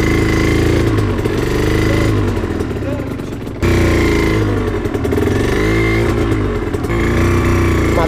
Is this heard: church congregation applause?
no